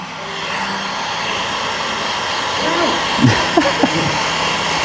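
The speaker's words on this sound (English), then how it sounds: "the final step is just going to be heat gunning the edges down" A heat gun blows a steady, loud whooshing drone at medium heat while warming the edges of paint protection film on a BMW F80 M3 wheel arch, with a few faint handling noises near the end.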